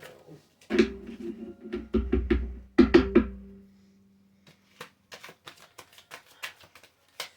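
Several bursts of cards being riffled and bridged, close and crisp, followed by softer scattered taps and clicks as the deck is handled.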